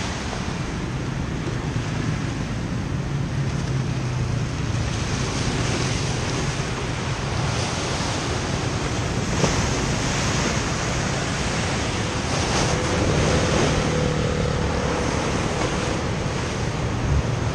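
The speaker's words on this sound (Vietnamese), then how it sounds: "dọc bờ kè sóng đánh vô là bờ kè này rất là mạnh" Sea waves along the Pham Van Dong seawall embankment in Nha Trang crash steadily against the concrete before a storm, a continuous loud roar of surf mixed with strong wind buffeting the microphone.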